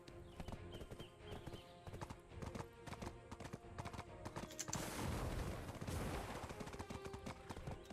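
Horse hooves clip-clop steadily through the Black Desert video game as a horse gets stuck on pathfinding, a dense rhythmic clatter of repeated hoof strikes throughout, swelling into a busier, noisier burst midway, with no talking.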